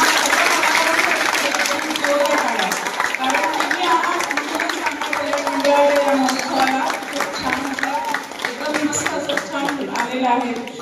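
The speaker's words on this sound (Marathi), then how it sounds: "सगळ्यांनी इथे जोरदार टाळ्या होऊ दे." Applause from an audience at a drama festival prize ceremony, clapping running under a loud voice over a microphone that speaks throughout.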